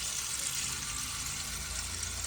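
Tap water runs steadily into a pot, filling it to boil chicken in a Pakistani village home; a continuous close, even hiss of flowing water with no talk.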